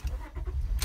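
A car engine cold-starts with a low rumbling crank and a rising idle, up close and loud, with a bright rattle near the end.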